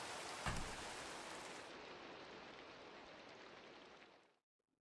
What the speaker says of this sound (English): Oh, is that the rain stopping?